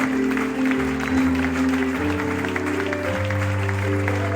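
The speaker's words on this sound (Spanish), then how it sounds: "Y lo recibe la iglesia con un aplauso." A church congregation applauds at a gospel service, steady clapping running throughout alongside sustained organ or keyboard tones and a bass line.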